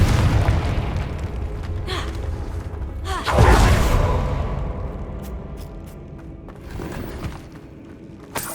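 A Confringo fire spell detonates in Hogwarts Legacy, a booming blast that rumbles and fades after a busy game soundscape with scattered thuds and effects.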